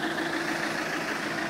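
A 2007 Iveco Daily 35S14 extra-long-wheelbase, extra-high-roof van idles with a steady, even diesel drone and a constant low hum, close and moderately loud, with no talking.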